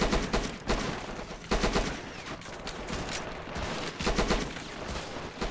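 Dense bursts of video game gunfire from Men of War with the Killzone Helghast mod, rapid overlapping volleys crackling and popping in waves, loud and continuous, with heavier thumps of automatic fire throughout.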